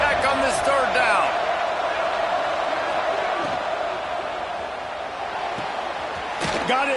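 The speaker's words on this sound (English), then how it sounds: "The crowd electric trying to help Tech on this third down." A football stadium crowd roars loudly and steadily during a third down at a Texas Tech versus SMU game, a dense wash of cheering and noise that swells slightly near the end.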